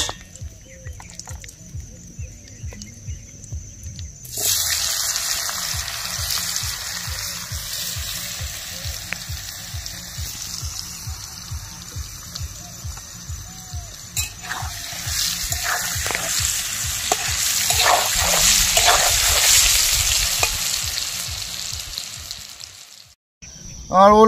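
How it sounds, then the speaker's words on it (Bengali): Pieces of yam frying in hot oil, a steady crackling sizzle that starts after a few seconds and runs on, swelling louder later, with stirring and a low rhythmic pulsing underneath. "এইভাবে সব ওলগুলো আমি ভেজে নেবো।"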